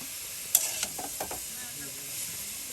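Leafy greens (shak) frying in a pan, a steady soft sizzle with a few sharp utensil clicks and stirring scrapes early on, close and moderately quiet, no talk.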